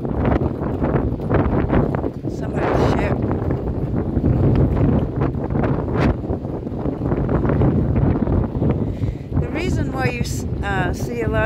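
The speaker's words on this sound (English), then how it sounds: "It's very windy, but it's a nice cool day," Strong wind buffets the microphone outdoors on a cool, breezy day, a steady dense roar throughout, with someone talking over it.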